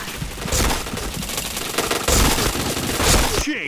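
Rapid automatic gunfire in a shooter video game, dense bursts of fusillade-like shots running continuously throughout, loud and close, with a brief sharper burst at the end.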